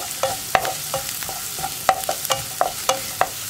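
Onions with salt sautéing in a pan, with a spoon scraping and stirring in repeated clinks over a low sizzle, close up and with no voices.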